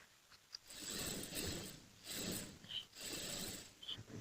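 A sewing machine stitches a long coat in short mechanical runs, several bursts of rapid clattering separated by brief pauses, close and fairly quiet.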